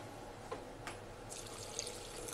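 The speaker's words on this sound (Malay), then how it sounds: "marilah kita masukkan sedikit air" Water trickles softly into a turmeric powder mixture for a curry paste. It is a faint, steady wash of pouring at close range with a few small splashes.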